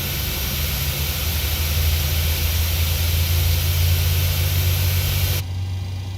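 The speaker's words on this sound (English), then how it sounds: "Let's go outside to listen to engine number 2 start up." Boeing 737 engine number 2 spooling up in a VR flight simulator, a steady loud jet roar with a low rumbling drone and broad hiss that holds for about five seconds, then drops sharply in brightness near the end.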